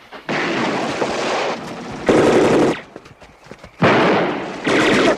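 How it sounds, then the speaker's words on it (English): Heavy machine gun fire in bursts, loud and close, several sustained rattling volleys separated by short gaps. "Stop shooting, damn it! You're gonna blow us up!"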